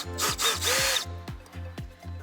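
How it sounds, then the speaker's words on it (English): A power driver backs out a steering column screw on a Toyota RAV4, making short whirring bursts with pitch sweeps and rhythmic ratcheting pulses, close and fairly loud. "So we're going to go ahead and remove this screw here now."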